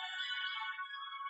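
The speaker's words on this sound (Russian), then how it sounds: "Так, что-то мне кто-то звонит." A mobile phone ringing with an incoming call, a bright electronic ringtone melody sounding alone and fairly quiet, sustained through the short moment.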